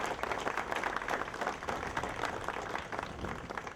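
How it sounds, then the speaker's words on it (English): A crowd at an outdoor Portugal Day ceremony claps in steady applause, a faint and distant patter of many hands with no voices over it. "Please give yourselves a round of applause"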